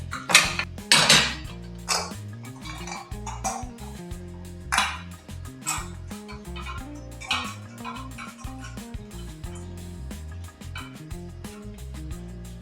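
Metal plates and a fitting rod being assembled into an idli cooker, with a series of clanks, taps and scrapes of metal on metal at an irregular pace, loudest near the start, and no speech.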